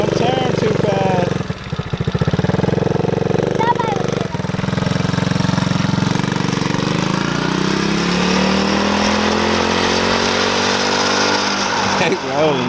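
A kids' four-wheeler engine runs loud and steady, its revs rising and falling and briefly dipping before picking back up, with people talking nearby over it.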